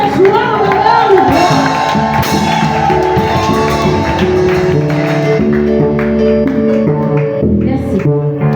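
A church congregation shouts and cheers for joy during a service. Voices rise and mix loudly and continuously, with music and rhythmic tapping underneath throughout.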